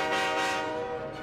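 Cartoon toy train horn from a Matchbox animated adventure, a sustained harmonic blast that holds steadily for the whole moment, loud and close with no talking over it.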